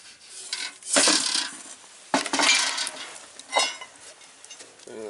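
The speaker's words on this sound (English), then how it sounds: "I'm going to get this pan here, and I'm going to scoop some of these ashes out" A metal pan scrapes and scoops ashes inside a double barrel wood stove in a shop, giving three separate rough scraping strokes with faint clinks between them, close and alone with no talk.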